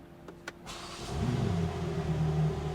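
A 2024 BMW M4 Competition facelift engine cranks and fires up in comfort mode, settling into a steady idle with a low rumble after a couple of faint clicks.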